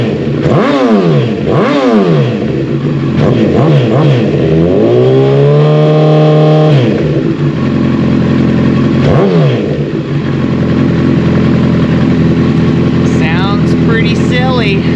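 A Honda CBR1000RR, a first-year model of the sport bike, is revved hard several times up close, each blip sweeping up and falling back, with one longer held rev before it settles to idle.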